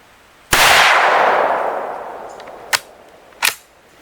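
A single loud, close rifle shot from a Savage 110 Engage chambered in .350 Legend, fired at a target, with a long fading echo followed by two sharp faint knocks.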